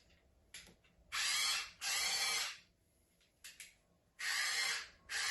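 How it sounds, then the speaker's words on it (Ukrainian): A cordless screwdriver runs in three loud, whirring bursts of about a second each, with short mechanical clicks between them and quiet pauses around them. "А тепер бачу, що це шуруповерт."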